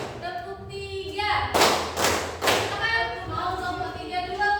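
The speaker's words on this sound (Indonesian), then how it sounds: "Tepuk ya. Tepuk 1 sampai 5." A group claps in rising counted bursts as a classroom ice breaker, loud broadband claps in clusters near the middle, with a voice talking underneath throughout.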